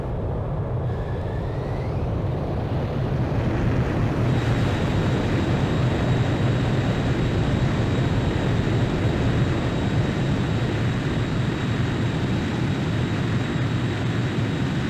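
A jet aircraft's engines roaring at full power on a carrier catapult in Ace Combat 5, a steady, loud broadband rumble that swells and holds for the whole stretch, with no voices.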